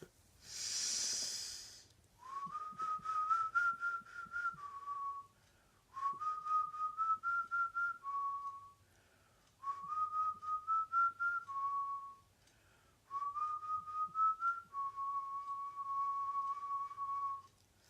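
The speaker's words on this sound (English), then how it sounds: "I'm just going to do one more whistle through so I can get centered again" A person whistles a slow, gentle tune in four long phrases. Each phrase is a clear, rising then level tone, separated by short quiet breaths in a calm indoor setting.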